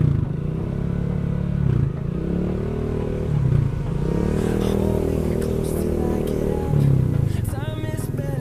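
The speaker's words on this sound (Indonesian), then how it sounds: "Kenceng parah knalpotnya sumpah." A loud motorcycle exhaust rumbles close by, idling and revving in low throaty bursts, with some clattering and traffic noise around it.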